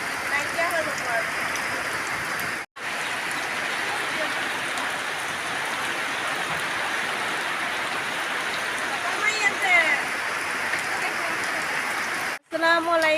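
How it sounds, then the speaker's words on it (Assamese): Steady rain falls close by, an even hiss of drops on surfaces that continues without letup, broken by two brief dropouts. "বৰষুণত তিতি বহুত ভাল লাগে"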